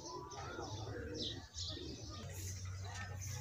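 Pigeons coo and chirp during a village pigeon-flying contest, soft birdcalls repeating over a steady low background hum, fairly faint and close, with a brief dip midway.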